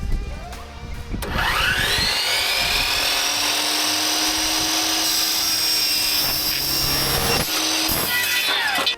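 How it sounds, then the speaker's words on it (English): A miter saw cuts through aluminum L channel trim in a garage workshop: a loud, continuous high whine rises as the blade spins up and bites, holds for several seconds, then winds down. "I cut aluminum L channel on the miter saw"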